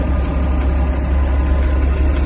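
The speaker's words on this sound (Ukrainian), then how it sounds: "Давайте покажу, як трактор розвертається просто на повному приводі. Ось так з проскальзуючи" A Yanmar EG-230 Japanese mini tractor engine runs steadily in four-wheel drive as it turns, giving a continuous low rumble with a dense, even texture, close and moderately loud.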